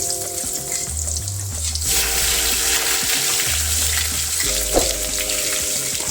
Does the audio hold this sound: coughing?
no